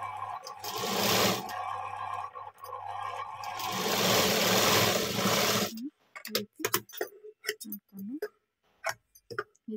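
A sewing machine stitches a square-neck blouse, running in two long, close whirring bursts before stopping, then a stretch of short handling sounds and scattered speech.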